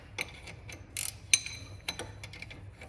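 A wrench works a nut on a CV shaft during repair of a 2010 Dodge Grand Caravan, giving a few sharp, close metallic clicks and ratcheting ticks spread across a quiet moment, with one bright metallic ping.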